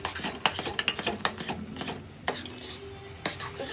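Metal spoon scrapes and clinks against a pan while a dish with ghee is stirred at home, irregular knocks and scrapes close by, fairly soft with faint kitchen hum.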